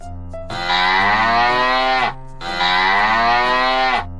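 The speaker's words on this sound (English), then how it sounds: "cow." Cattle on a farm give two long, loud, drawn-out moos, each about a second and a half, with a short pause between them and no other sounds.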